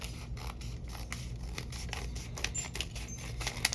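Scissors trimming open a stuck paper envelope in a papercrafting session: a quiet run of repeated soft snips and papery crinkles, close up, with no talking.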